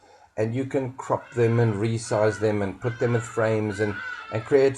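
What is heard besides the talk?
birds in the background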